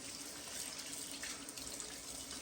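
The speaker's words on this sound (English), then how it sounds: "Wash it with mild soap, Dawn." Tap water runs steadily into a sink while something is washed with mild Dawn dish soap, a soft, even hiss that holds for the whole stretch with no talk.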